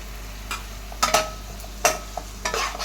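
Ginger garlic paste sautéing in a pan for kadai gravy: a soft frying hiss under a low steady hum, broken by a handful of quick spatula scrapes and stirring bursts.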